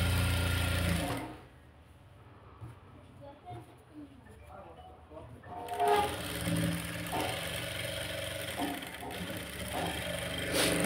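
A sewing machine stitches a blouse made of slippery fabric, sewing a line of top stitching. It whirs steadily and fairly loud at the start, stops for a few seconds of quieter handling, then runs continuously again.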